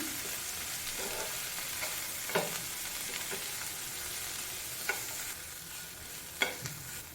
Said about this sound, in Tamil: மூணு பச்சை மிளகாவை கட் பண்ணி அதை சேர்த்துக்கோங்க அந்த எண்ணெயில் ஒரு ரெண்டு நிமிஷம் வதக்குனா போதும்